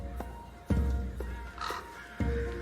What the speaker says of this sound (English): These crows have a bounty on me!